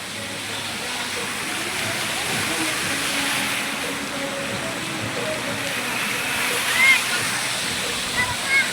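Water pours and splashes continuously at a water park ride, a steady loud rushing wash close by with occasional sharper splashes near the end; people talk over it.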